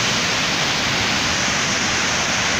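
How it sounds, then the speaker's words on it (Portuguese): A waterfall on the upper section of the Rio do Sono roars as a loud, steady broadband rush of falling water, continuous and close for the whole stretch with no voices over it. "E aqui eu tô mostrando a cachoeira aqui na parte de cima."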